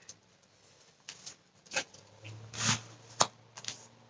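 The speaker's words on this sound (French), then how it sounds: "je vais tirer 3 cartes conseils qui seront uniquement pour vous" Tarot cards drawn from a deck by hand: a few soft slides and crisp snaps of card stock, spaced irregularly and heard close up in a quiet room.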